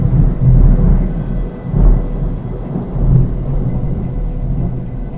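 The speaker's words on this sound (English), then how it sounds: "That was some heavy thunder that we had" Heavy thunder rumbles low and loud in rolling waves throughout, with a steady wash of rain beneath.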